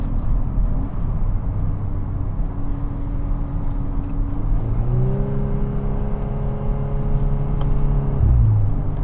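A 2022 MK8 Volkswagen Golf R with DSG gearbox in race mode pulls hard, its engine droning loud and steady, rising in pitch as the revs climb with audible gear shifts, heard from inside the car.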